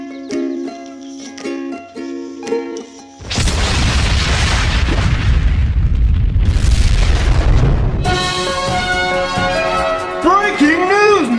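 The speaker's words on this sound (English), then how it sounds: "The United States has launched a nuclear missile at the North Pole, killing thousands of endangered animals" A nuclear missile explosion sound effect in a comedy movie: a sudden, loud, deep boom rumbles for several seconds and swells twice before giving way to tonal sounds.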